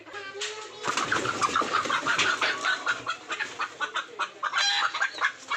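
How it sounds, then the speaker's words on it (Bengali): Three laying hens cluck close by in a rapid, uneven chatter, loud and continuous with short bursts and pauses. "তিনটে মুরগি আছে তিনটে মুরগিতেই কিন্তু ডিম দিচ্ছে"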